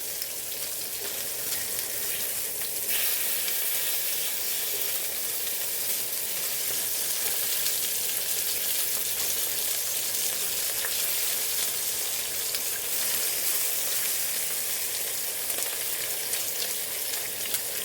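Bacon sizzles and spits steadily in a hot pan, a dense, continuous crackling hiss heard up close and alone, with no talk over it.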